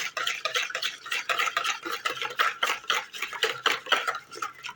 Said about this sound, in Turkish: Tekrardan bir karıştıracağım.